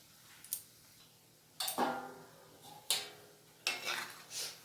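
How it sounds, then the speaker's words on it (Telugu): Wheat flour biscuits turned and roasted in a pan give off a few separate scraping clinks and clatters of utensil against metal, spaced out over a quiet background with no talk. "మెల్లిగా ఇవన్నీ తిరగేసి బాగా కలపాలి, రెండు వైపులా యాగాలి"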